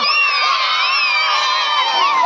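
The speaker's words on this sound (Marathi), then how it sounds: "वाघ या संघासाठी जोरदार टाळ्या वाजवा." Children at a school annual sports day cheer and shout loudly together for the winning team, a continuous high-pitched crowd roar with whoops layered over it for the whole moment.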